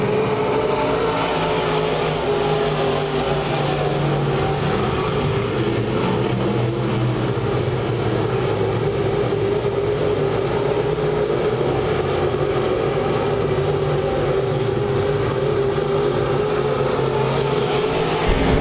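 Race cars circle a dirt track at Lake Ozark during a heat race's green-white-checkered finish, a dense, continuous roar of several engines droning together at moderate distance without a break.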